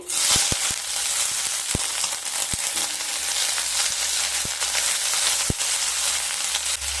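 Two medium chopped onions fry in hot oil with a loud, steady sizzle, broken by scattered sharp pops and crackles of spattering oil.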